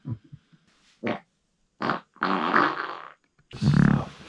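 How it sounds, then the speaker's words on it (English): Loud, close farting bursts, several short blasts followed by longer rasping ones, with quiet gaps between them and no talking over them. "Farting."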